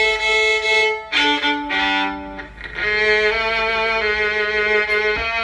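Violin amplified through a Schertler Basik piezo pickup plays a sustained melodic passage of bowed notes with bright, rich harmonics, heard clearly and up close with no talking.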